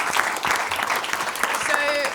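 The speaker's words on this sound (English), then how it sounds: "just another round of applause" A room full of people applauding, dense clapping throughout with a voice speaking over it.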